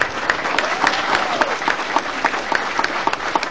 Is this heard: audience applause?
yes